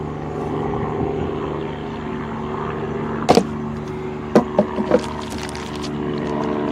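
Steady low rotor drone of a helicopter circling overhead fills the clip, a constant airborne hum with a few sharp clicks and knocks nearby.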